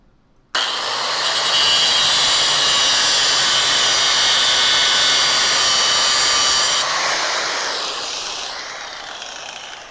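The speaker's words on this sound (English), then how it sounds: "I'm going to take my cutoff wheel over here and I'm going to just put a V-cut into this piece" A cutoff wheel grinds a V-cut into a steel frame rail patch, a loud sustained high-pitched metal shriek that starts abruptly and holds steady for several seconds before the wheel spins down and fades.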